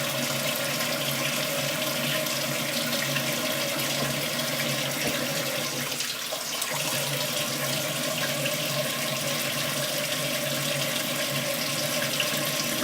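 Tap water runs steadily from a bathroom faucet to rinse a safety razor blade during a face shave, a continuous broadband rush lasting the whole stretch with a brief dip midway, close and fairly loud with no talking.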